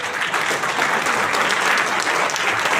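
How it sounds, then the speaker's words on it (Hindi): An audience applauds continuously, a dense steady clapping from many hands that holds at full loudness from start to finish with no voices over it. "एक बार खड़े होकर ताली बजानी चाहिए इनके लिए"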